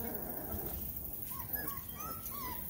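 Three-week-old Bloodhound/Catahoula puppies whimper and yip softly in thin, high cries scattered through steady background noise, with no clear talk.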